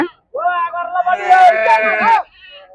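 A single sheep at a sheep and goat market lets out a long, loud wavering bleat close by, lasting about two seconds.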